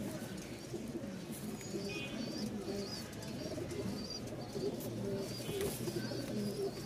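A crowd of pigeons at a bird market coos and calls in a steady, low, overlapping chorus, with faint higher chirps scattered through it and no one speaking.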